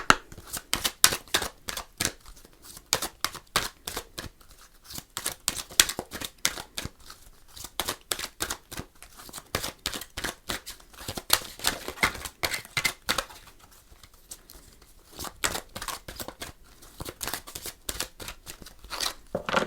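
Oracle cards being shuffled by hand, a rapid run of crisp papery riffles and clicks repeating in dense bursts with brief pauses, close and fairly loud, with no voices.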